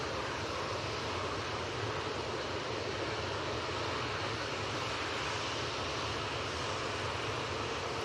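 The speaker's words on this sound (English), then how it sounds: "This is off to Palma de Mallorca as well, 737-800." A Boeing 737-800 departs Manchester Airport for Palma de Mallorca, its jet engines a constant, even broadband roar heard from some distance, unbroken for about eight seconds and free of talk.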